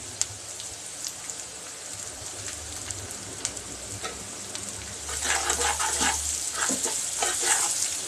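Food sizzles in a pan with salt while browning, a quiet crackle at first that swells into a louder, dense spattering hiss partway through, with faint stirring scrapes and no voices.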